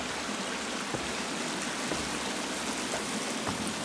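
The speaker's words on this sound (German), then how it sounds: "jetzt ist der Wasserfall bei mir übrigens auch total laut" A waterfall in the survival video game The Forest roars with a steady, loud, broadband rush of falling water, unbroken for several seconds and with no talk over it.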